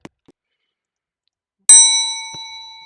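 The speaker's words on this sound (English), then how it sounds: "They have bell chime, just like a main lift, like that." A ZRAM lift in a Polish apartment building gives a single clear bell chime. It strikes sharply and rings out with a slowly fading tone after a moment of near silence, close and loud.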